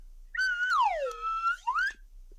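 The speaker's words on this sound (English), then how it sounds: "I have a slide whistle." A slide whistle glides down in pitch, holds, then swoops back up, a clear tone alone in quiet surroundings.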